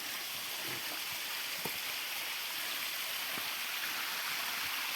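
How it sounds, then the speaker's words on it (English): A long village waterfall pours into a flowing stream, giving a steady, dense hiss and rush with faint splashes, continuous and fairly close, with no talk. "longest waterfall. Wow, wow, wow, what a waterfall."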